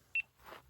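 A GoPro camera gives one short, high electronic beep as it stops recording, close but quiet, followed by faint background noise.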